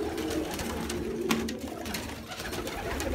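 Pigeons coo softly and repeatedly over a steady outdoor background, their low murmuring calls rising and falling without pause.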